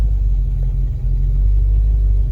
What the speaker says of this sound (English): So this one's obviously been idling and warming up.